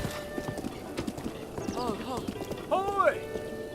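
Horse hooves clip-clop in a video game, a steady trotting patter joined by a couple of whinnies, with game music and voices talking over it.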